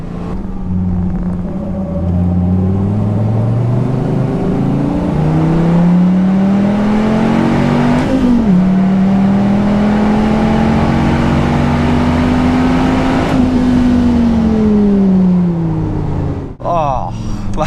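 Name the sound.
Dodge Viper ACR engine accelerating hard on a race track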